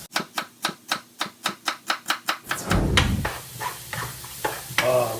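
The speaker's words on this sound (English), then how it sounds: "Start chopping celery." A knife chops celery stalks on a board for stuffing, with about eleven quick, evenly spaced close strokes, then a looser burst of scraping and clattering as the pieces are moved.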